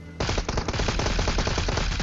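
Rapid gunfire from an Mk14 rifle in PUBG Mobile, a dense burst of loud, closely spaced shots that runs for about two seconds straight after a brief quieter lead-in.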